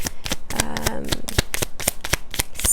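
Spirit animal oracle cards are shuffled by hand in quick, crisp riffling bursts, a close rhythmic series of papery flutters and slaps repeating steadily throughout.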